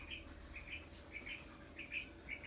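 Quail calling with repeated short chirps and whistles in bursts of two or three, moderately close over a steady low background hum, with no voices.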